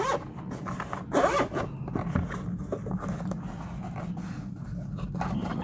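A zip-up carrying case for a Depstech inspection camera is unzipped in a few scratchy, rasping pulls at close range, with no speech over it.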